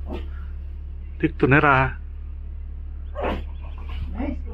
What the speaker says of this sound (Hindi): लेकिन भौंक रही है।